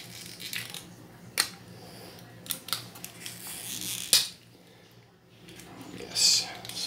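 Scissors snip through a wire tie holding a Scooby-Doo figure to a plastic tray in a 1/24 Jada Hollywood Rides Mystery Machine toy package, giving a few sharp close clicks among soft handling rustles under a low background hum.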